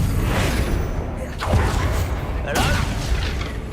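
Confringo fire spells go off in Hogwarts Legacy: a dense, rumbling game soundscape broken by two sharp whooshing bursts about a second apart, loud and close, with a voice faintly underneath.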